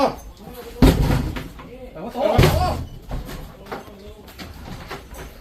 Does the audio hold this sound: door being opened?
yes